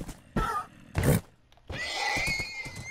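A horse neighs in the Minecraft video game, a couple of loud whinnying calls with brief gaps, close and clear, with no speech over them.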